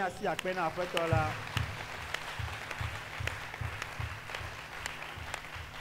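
A church congregation applauds and cheers at the close of a Friday worship service, the clapping rising in a steady patter after a brief stretch of speech and continuing at moderate level to the end.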